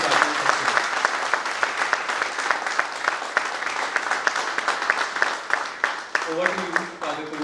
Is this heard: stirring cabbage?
no